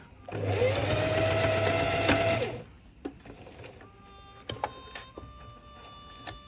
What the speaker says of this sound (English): Keep sewing gently across it, slow and steady.